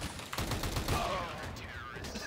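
Rapid gunfire in Counter-Strike on the Dust 2 map, a dense run of close, loud shots packed over a couple of seconds amid busy game noise, with some faint talk underneath.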